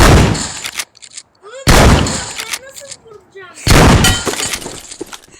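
Gunfire in a shooting video game: three sharp, loud blasts, each ringing off into a short decay, with a voice heard in the gaps between them.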